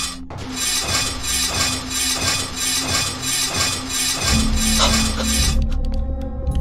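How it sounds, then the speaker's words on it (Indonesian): Repeated rhythmic sawing at a door in the horror game Home Sweet Home, loud and close, grinding in steady strokes with metallic clinks, then stopping near the end. "kita bakalan gergaji ini dan apa yang terjadi"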